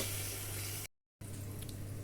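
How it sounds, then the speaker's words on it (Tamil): Water pours into a pan of fried masala and tamarind while kara kulambu is being made: a steady, close splashing rush that cuts out briefly and then resumes. "தேவையான அளவு தண்ணி சேர்த்துக்குவோம்."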